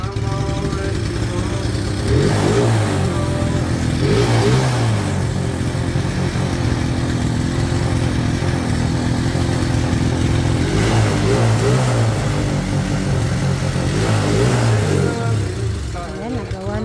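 A motorcycle engine running loud and close, rising and falling in repeated revs over a steady mid-pitched drone, with music playing throughout.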